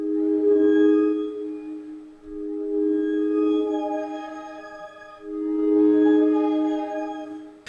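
A sustained tone from a free sci-fi synthesizer plugin, with its tone switch engaged, holds steady with rich harmonics, dips briefly, then swells again; no voices, just the electronic drone.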